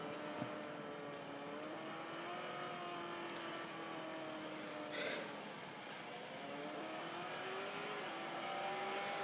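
Race cars engine tone rising and falling continuously in the Real Racing 3 racing video game, a steady loud engine drone with shifting pitch and a brief squeal or pass-by burst near the middle.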